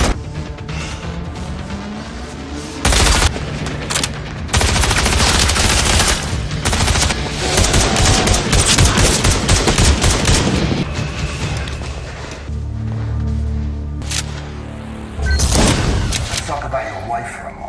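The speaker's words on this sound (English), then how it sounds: "They engage in a fierce duel filled with gunfire, traps, and brutal strikes." Fierce movie gunfight with bursts of rapid automatic fire, loud booms and crashes, coming in heavy waves with brief lulls between them.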